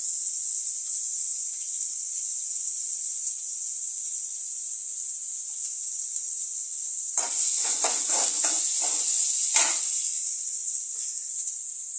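Broken dried red chillies hit hot oil for a fish curry: a thin, steady hiss, then a burst of louder crackling and spitting for a few seconds before easing back.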